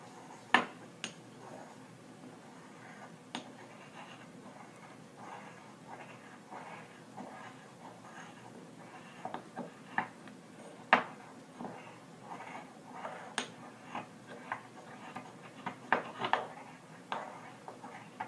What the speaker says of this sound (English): And you want to thoroughly grind the tissue so that you can extract as much DNA as possible.